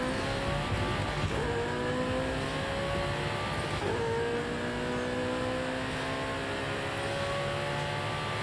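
In-game car engine from Forza Horizon 5 revs and accelerates through rising gear sweeps with shifts, loud and steady, a stock car driven hard with faint tire noise underneath.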